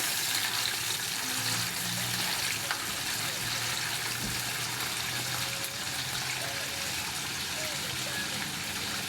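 Water poured steadily over smoked fish (tinapa) to soak it, a continuous close gushing splash lasting several seconds with a low hum underneath.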